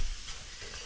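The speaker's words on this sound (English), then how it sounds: "What happens is the sizzling from the water will help pull off all that brown goodness." Water hissing and sizzling in a hot pan as it deglazes browned bits left from sausage, a steady close crackle that stays fairly even without pauses.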